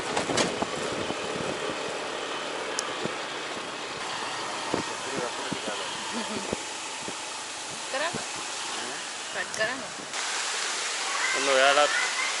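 Clean water pours continuously at Anda Dola waterfall near Horana in the rainy season, a steady broadband rush that fills the scene, while people talk nearby over it and a few clicks and bumps cut in.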